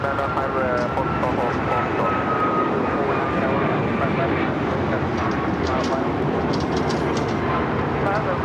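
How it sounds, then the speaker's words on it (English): A United Airlines Boeing 737 MAX 9 airliner takes off at LAX, its jet engines producing a loud, continuous broadband roar that fills the whole stretch without a break. "Next takeoff, United Airlines flight 1069 heading to Chicago O'Hare."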